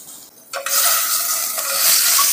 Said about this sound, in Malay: Di sini saya menggunakan margarine ya ataupun butter ya untuk menumis ya